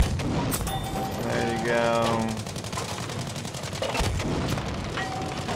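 Tank cannon fire in Battlefield 5 from a max-upgraded tank, with heavy booms and rattling gunfire over a constant rumbling battle din, while someone talks briefly over it.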